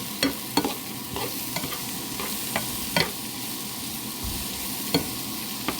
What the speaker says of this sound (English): we want to go ahead and let that stir and let it cook down